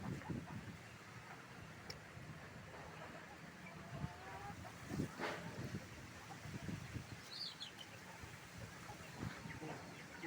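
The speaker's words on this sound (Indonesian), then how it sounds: "angin gede banget" Strong gusts blow through a forest in a sudden windstorm, a fluctuating rush of wind and microphone buffeting with scattered rustles and a few faint bird calls in the background.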